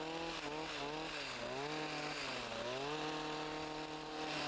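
A hedge trimming machine cutting Horopito hedgerows on a plantation, a continuous buzzing engine drone that rises and dips in pitch as the blades bite, heard up close with no talk.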